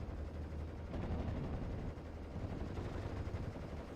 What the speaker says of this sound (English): Just have to remember that artillery is firing on them.